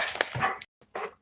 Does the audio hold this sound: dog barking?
yes